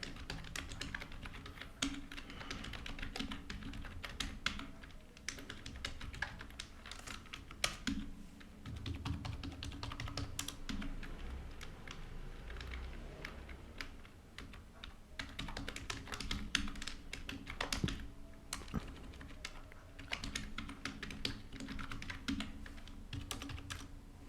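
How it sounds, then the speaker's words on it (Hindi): Someone types on a computer keyboard to enter data into a web form, a quiet close-up clatter of quick keystrokes that runs in bursts for about twenty seconds, with no speech. "जैसे मैं इसमें कुछ एंट्री कर देता हूँ।"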